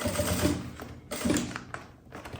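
A sewing machine stitching fabric while sewing a zippered cosmetic bag with piping, running in close, continuous mechanical bursts with a short pause between them.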